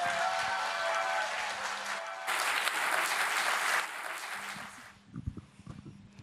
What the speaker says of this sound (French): Je vous demande de faire un tonnerre d'applaudissements à Sarah Charles.